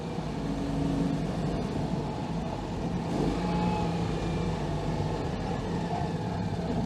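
A Citroen 2CV engine revs hard while the car is driven, heard from inside as a loud, steady, buzzing drone that continues without a break.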